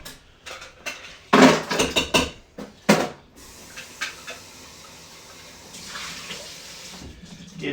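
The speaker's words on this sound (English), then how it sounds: "Give my shaker a quick rinse." Water splashing and running as a cocktail shaker is rinsed at a bar sink, with loud clattering bursts of metal and water early on, then a softer steady trickle and gush toward the end.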